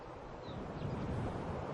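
Continuous rushing wind noise, steady and broad, buffeting the microphone without any voices.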